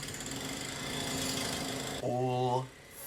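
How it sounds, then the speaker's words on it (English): A loud power drill from a house renovation next door whines steadily, then shifts to a higher, rougher buzz for a moment before cutting off, with a voice briefly audible. "they're renovating a house, but I think it's one person doing it really slowly with a really loud drill"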